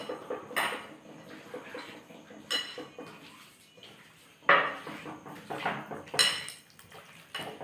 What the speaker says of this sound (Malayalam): അങ്ങനെ നമുക്ക് നന്നായി ഇത് നമുക്ക് കുഴച്ചെടുക്കാം